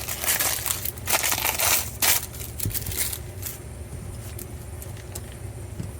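Paper pouch of GI Joe Classified Series Firefly action figure accessories being torn open and emptied, loud crinkling and crushing paper rustles in bursts over a steady low background hum, close by with no talking.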